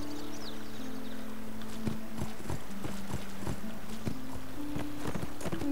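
Hooves clip-clop in a steady, even rhythm as a horse is ridden across an island in a horse-riding adventure video game, with a soft background ambience and no talking.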